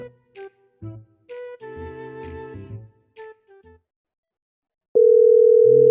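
A phone call on speakerphone gives a loud, steady ringback tone that starts near the end, after a stretch of people talking.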